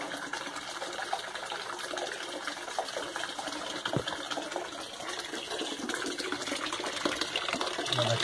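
Water runs steadily through homemade counterflow wort chiller tubing, a continuous broadband gush with some splashing where it spills out, fairly close and alone, with one brief knock partway through.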